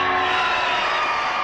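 A crowd greets President Kennedy with steady applause and cheering, a dense, continuous wash of clapping heard at a distance, without a break.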